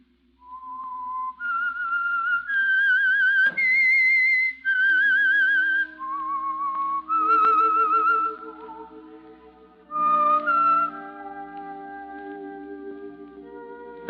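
A lone whistled melody, the signal for the Signal Oil radio program The Whistler, clear and sustained, rising and falling through several long notes with a slight echo, over a soft steady hum.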